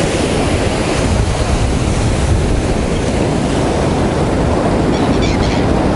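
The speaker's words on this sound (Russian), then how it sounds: "Какие волны" Sea waves break and wash continuously onto the shore at Sochi in December, a loud steady roar of surf with wind noise on the microphone and no voices.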